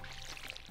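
Watering crops in the video game Stardew Valley gives a brief, quiet splashing pour of water, a soft trickling burst under a low steady game hum.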